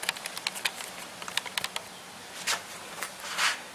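Commodore and Spectrum computer keyboards handled on a surface, with a run of quick, close plastic clicks and taps followed by a few slower, softer rustling knocks; no one speaks.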